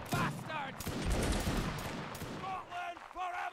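A musket volley in a Mount and Blade Napoleonic Wars line battle, a dense crackling burst of many shots near and loud, with voices talking before and after.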